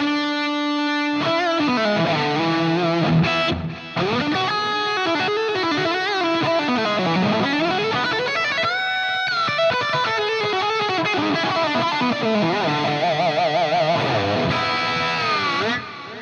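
An electric guitar played through a Fractal unit with delay and London plate reverb, aiming for a particular guitarist's tone, plays sustained and bending lead lines with long echoing trails, alone and prominent.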